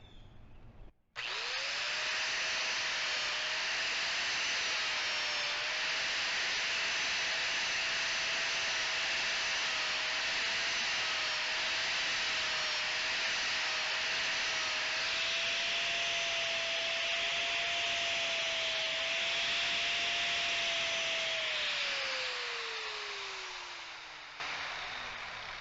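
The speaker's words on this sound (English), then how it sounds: "We cleaned that with the flap disc." An angle grinder with a flap disc cleans metal, a loud steady high whine held for about twenty seconds, then winding down as the motor spins to a stop.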